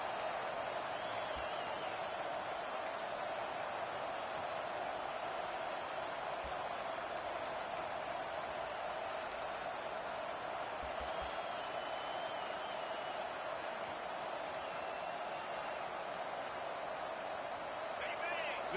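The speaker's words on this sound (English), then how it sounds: "This offense trying to quieten the crowd on 1st and goal, and they are not cooperating" Steady stadium crowd noise from an American football video game, a constant broad roar at moderate level that runs the whole time and stays beneath commentary.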